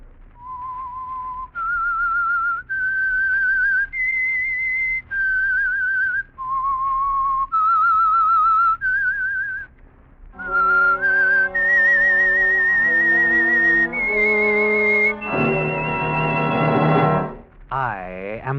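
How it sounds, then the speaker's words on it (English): A lone whistler carries the eerie theme of The Whistler radio program, a string of sustained, slightly wavering notes, before an orchestra joins and swells beneath the whistled melody, ending in a full chord. "That whistle is your signal for the Signal Oil program"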